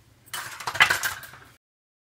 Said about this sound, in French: Donc là, je vais aller bien mélanger tout ça.